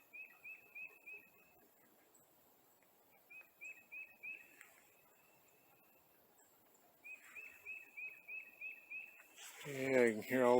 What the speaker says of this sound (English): Yeah, you can hear all the birds.